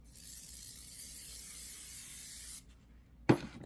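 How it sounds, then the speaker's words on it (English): An aerosol spray hisses steadily onto quilting fabric for about two and a half seconds, followed by a sharp click and a brief rustle, close and fairly quiet. "Should I spray? Let's spray this side."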